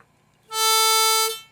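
A single sustained harmonica note played with a tongue block, lips covering four holes with holes 1 to 3 blocked, rings out clear and steady for about a second before fading, with no voices.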